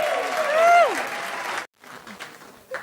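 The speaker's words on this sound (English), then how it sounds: "How about another round of applause for all of our comedians tonight?" Applause from a comedy club audience fills the first half, dense clapping with a sung or held tone over it, then cuts off into quieter room noise with scattered claps.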